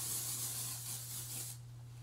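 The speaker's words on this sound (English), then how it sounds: "I'm going to take my dry shampoo" An aerosol can of dry shampoo sprays onto freshly curled hair in a steady, close hiss that cuts off sharply after about a second and a half, leaving faint hum.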